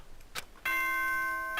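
Electronic ding-dong chime from the Danganronpa video game, a clear sustained bell-like tone with bright ringing overtones that holds steady, preceded by a soft click and followed by a second chime starting at the end.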